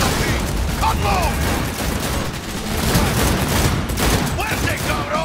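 Rapid gunfire in Cyberpunk 2077, dense bursts of automatic shots and booms crackling continuously at close range, with frantic shouting voices over the shooting.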